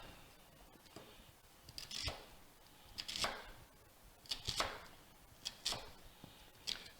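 Red onions are sliced into rings on a cutting board, a series of about seven crisp knife chops at uneven intervals, quiet and close with no talking.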